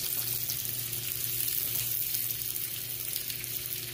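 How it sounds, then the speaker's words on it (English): Onions sauteing with bacon in a pan for baked beans, a continuous close, even sizzle and hiss with no talk over it. "I added my onions to the bacon, and I'm just gonna let those saute up"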